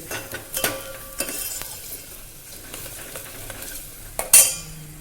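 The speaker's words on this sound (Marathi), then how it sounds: "आता इथं छान कांदा परतून घ्यायचा आहे आपल्याला" Onion sautés in a pan for sambar, soft frying under frequent spoon scrapes and stirring taps, with a sharper metallic clink near the end.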